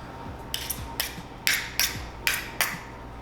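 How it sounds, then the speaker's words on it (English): An ice cream scooper scooping keto biscuit dough, making a series of about six sharp, close mechanical clicks and scrapes of the scoop's release lever, spaced roughly half a second apart, with no talking. "I'm using an ice cream scooper to scoop it out"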